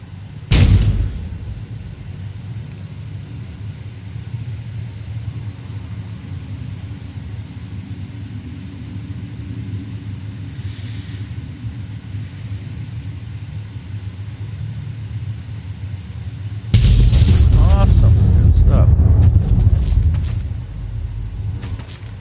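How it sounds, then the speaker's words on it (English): Cars blowing up in the video game Fallout New Vegas: a steady low rumble builds until a loud, close blast bursts in near the end, with a brief boom at the start. No voices. "At least the cars don't take as long to explode as the trucks do."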